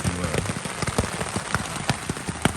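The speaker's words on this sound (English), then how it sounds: "I'm kind of glad it's raining, honestly." Steady rain falls outdoors on the Appalachian Trail, a dense broadband patter with scattered sharper drops striking nearby surfaces, continuous and fairly close throughout, with no voices.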